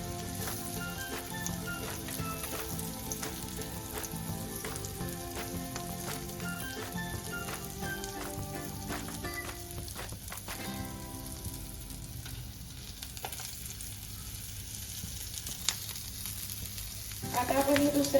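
Rava-coated prawns shallow fry in a pan, turned to crisp the second side, with a soft, steady sizzle that runs throughout under a faint tonal background and swells slightly at the end.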